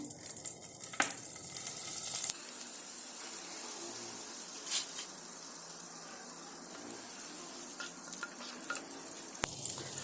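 A large piece of butter melting in a pan with a little oil, giving a soft, steady sizzle and hiss with a few faint clinks and scrapes, fairly quiet and close.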